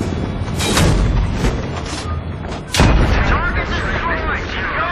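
Tank cannon fire in Battlefield 3's thunder run, with two heavy booming blasts about two seconds apart, the second louder, over rumbling battle noise and shouted radio chatter.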